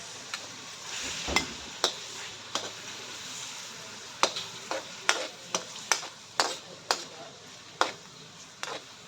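Tomatoes tossed into a frying pan and stirred over heat, a soft sizzle under a series of sharp, irregular utensil scrapes and taps against the pan, fairly close.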